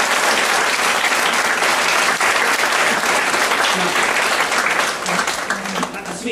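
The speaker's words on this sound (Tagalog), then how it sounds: "Ito po yung deserve ng palakpak po ni Lord." A church congregation breaks into sustained, loud applause during a sermon, a dense wash of clapping holding steady and easing slightly near the end.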